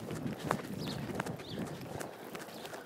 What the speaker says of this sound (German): Und dann darf er noch ein bisschen vorwärts traben